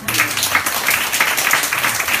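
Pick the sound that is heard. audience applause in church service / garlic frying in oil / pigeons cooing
audience applause in church service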